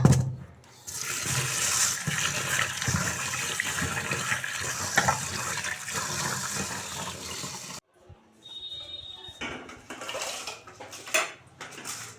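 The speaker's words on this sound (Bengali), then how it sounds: "এখানে ভাত রাইতে জল নিয়ে নিলাম ভাতটা বসিয়ে দেবো" Tap water runs into a pot to cook rice in a home kitchen, a continuous rushing pour with clinks of metal pots and utensils, then a brief cut and quieter clattering afterward.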